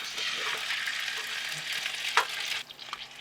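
Salmon fries in a pan in the back of a camper van, giving a steady broadband sizzle with soft stirring scrapes and one sharper clink near the end before the sizzle eases slightly.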